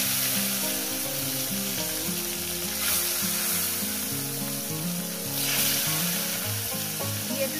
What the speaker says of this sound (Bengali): তেলটা গরম হয়ে গেছে বন্ধুরা। দিয়ে দেবো লবণটা দিয়ে দিলাম। এবার আস্তে আস্তে মাছগুলো দিয়ে দেবো।